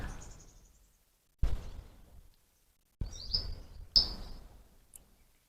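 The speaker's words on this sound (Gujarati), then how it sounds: "આ ટીટોળી જે એવું છે પક્ષી કે એ ક્યાંય ઝાડ ઉપર બેસે નહીં" A red-wattled lapwing, a ground-dwelling bird, gives a couple of sharp, high calls amid intermittent handling thumps and rustles, the calls brief and moderately close in an otherwise quiet outdoor setting.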